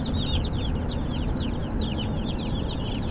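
Young chickens in a brooder cheeping and clucking continuously in a dense, overlapping chorus over a low rumbling background, close and fairly loud.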